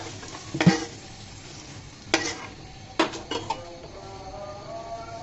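Potatoes fry in oil in a pan with a soft, steady sizzle, broken by a few sharp clinks and scrapes of a utensil stirring against the pan.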